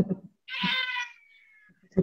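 A house cat gives one clear, drawn-out meow that fades into a thin tail, set between short bursts of nearby talk.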